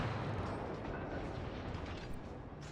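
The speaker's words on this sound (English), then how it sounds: "I'm just gonna keep shooting at the Königsberg, I guess" Rapid, heavy naval gunfire rumbles continuously as ships trade shots with the cruiser Königsberg in World of Warships, a dense, booming barrage with no pauses and no talking.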